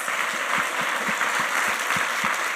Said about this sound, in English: if we could just give them one more round of applause